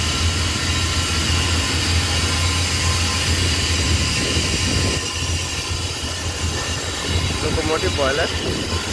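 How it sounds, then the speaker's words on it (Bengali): Steam from a locomotive boiler rushes into a rice parboiling unit at a rice mill as a loud, steady, broadband hiss and roar that continues unbroken throughout. "এই পারবোলিংটিতে স্টিম আসছে লোকোমোটিভ বয়লার থেকে"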